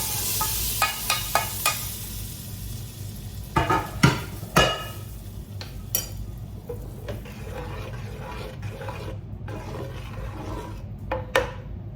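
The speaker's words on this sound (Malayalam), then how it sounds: "ഇതിലേക്ക് വറുത്ത് വെച്ച് കാഷ്യൂനട്ടും മുന്തിരിയും ചേർത്ത് കൊടുക്കാം" Fried cashews and raisins go into a pan, giving a steady low sizzle with several sharp clattering scrapes and knocks of a spoon stirring against the pan.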